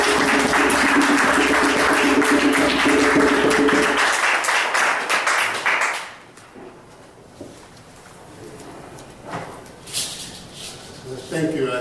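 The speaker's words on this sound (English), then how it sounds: "I hope that you all can show him a great, big welcome of applause." Dense audience applause fills a seminar hall for about six seconds, welcoming a speaker, then fades into quiet room noise with scattered faint movements.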